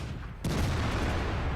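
A KV-2 heavy tank's derp cannon fires in World of Tanks, one sudden loud boom that settles into a sustained rumbling roar, with no voices over it.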